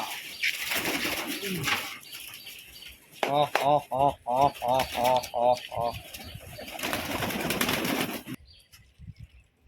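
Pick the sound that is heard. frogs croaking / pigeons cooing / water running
pigeons cooing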